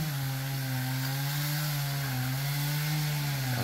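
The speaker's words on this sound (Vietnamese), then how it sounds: "Kéo cái máy cưa lên các bạn." A chainsaw idles and revs steadily nonstop while being hoisted up into a large mango tree near power lines, loud and close with a wavering engine pitch and no talk.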